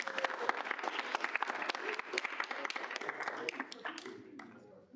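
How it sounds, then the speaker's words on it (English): Applause rings out at a student senate meeting, a crowd clapping steadily and fairly close for several seconds before it thins out and fades near the end. "So another round of applause."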